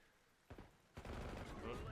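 Gunfire in a Black Ops 6 Search & Destroy match comes as a sharp shot and then a dense, loud burst of rapid rounds, with faint voices in the background.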